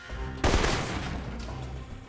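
Rifle gunfire in the video game Alpha Protocol, one loud close burst of shots that decays into a rumbling echo, with no talking.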